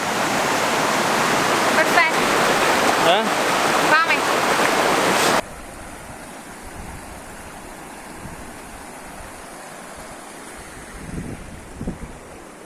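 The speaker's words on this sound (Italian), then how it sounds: "il rumore del torrente è fortissimo" Loud, steady rushing of a mountain torrent flowing past close by, a dense broadband roar for the first five seconds before dropping to a softer, more distant wash, with a few brief spoken words over it.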